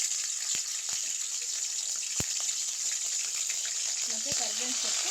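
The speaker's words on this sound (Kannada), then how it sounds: "ಕಾದಿರೋ ಎಣ್ಣೆಗೆ ಚಕ್ಕೆ ಲವಂಗ ಫಸ್ಟಿಗೆ ಹಾಕೊತಿದ್ದೀನಿ" Cinnamon and cloves sizzling in hot oil in a pan for bachelor pepper chicken, a constant bright hiss with a few sharp ticks and pops scattered throughout, no talking.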